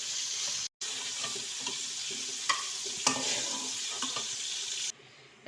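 Cauliflower florets fry in hot oil for an Indian aloo gobi curry, a steady close sizzle with a few stirring and scooping clatters as the pieces are lifted out.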